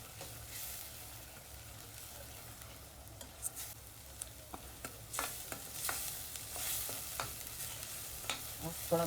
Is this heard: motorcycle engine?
no